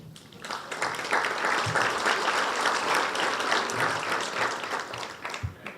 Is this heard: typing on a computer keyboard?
no